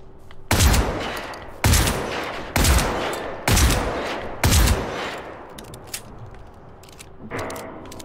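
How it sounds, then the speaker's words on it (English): Enemy gunfire in Generation Zero cracks out as five loud, evenly spaced shots, each followed by a ringing tail, then a few fainter clicks and softer reports trail off. "You're supposed to face the enemy that's shooting you in the back"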